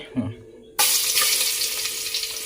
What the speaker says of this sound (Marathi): हे बघा लसूण टाकले